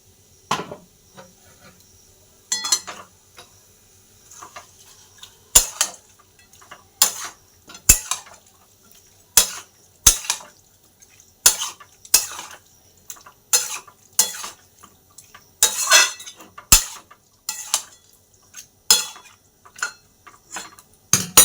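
Meat being heated in a kadai, sharp metallic clatter and scraping of a spoon against the pan in irregular bursts, close and loud against a near-silent background.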